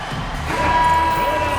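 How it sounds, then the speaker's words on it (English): Steady crowd noise fills an indoor arena at a Philadelphia 76ers basketball game, a broad roar of cheering and applause swelling slightly midway, with a faint tonal whistle or horn over it. "Nice round of applause for your 76ers."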